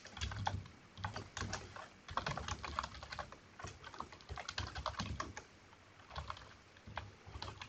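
People typing on computer keyboards, a fairly faint, busy patter of quick key clicks in irregular bursts that run continuously throughout.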